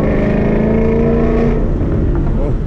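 A Mustang GT fitted with a Corsa Xtreme exhaust downshifts, a loud deep droning rumble that holds steady, then the pitch swings as the revs change near the end, recorded close from inside the car.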